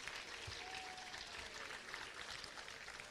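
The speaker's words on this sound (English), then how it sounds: "So we give them a round of applause, please." Faint audience applause at a high school awards ceremony, an even wash of clapping from a distance that holds steady throughout.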